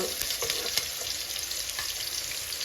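Onions, chillies, carrot and peas fry in a pan with a steady, close hiss of sizzling oil throughout, a few faint clicks of stirring and no talking.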